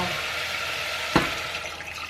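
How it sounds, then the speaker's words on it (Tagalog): Water is poured into a pan of browned meat, a short splash and hiss rising out of a steady sizzle of frying, close and fairly quiet. "Brown na siya, so lalagyan ko siya ng tubig."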